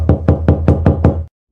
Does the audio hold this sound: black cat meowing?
no